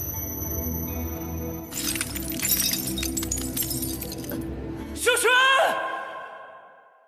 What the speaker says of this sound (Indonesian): datanglah sebuah pedang yang tak lain adalah pedang Xiao Zuan yang kini telah hancur